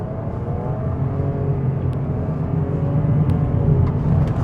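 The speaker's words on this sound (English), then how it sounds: "We can try a slight brake torque. And let's go." A 2025 Nissan Rogue Rock Creek with a CVT pulls away hard from a standstill, its engine droning in a steady rising whir with road rumble, loud and close from inside the cabin.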